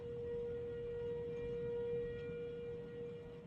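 Civil defense tornado warning sirens wail as a steady, faint, distant tone over a low outdoor rumble during a tornado warning, with no voices.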